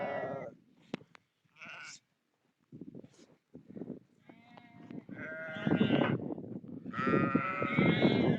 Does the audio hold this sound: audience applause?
no